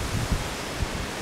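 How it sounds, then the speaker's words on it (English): Wind gusting outdoors beside a pond on a blustery day, a steady low rumble of buffeting against the microphone with a couple of brief thumps, no talking. "It's a very windy day today."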